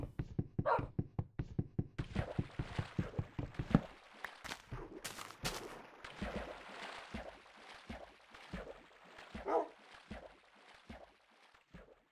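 An old dog, over ten years of age, barks in a rapid series of short, close barks, then breaks into softer whimpers and scattered yelps, with faint background movement.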